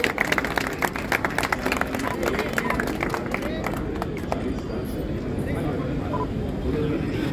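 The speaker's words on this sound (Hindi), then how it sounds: "जोरदार तालियों से स्वागत करेंगे।" Loud welcoming applause from a crowd at a public health card distribution event, crisp claps at first that thin out into a softer, murmuring crowd rumble.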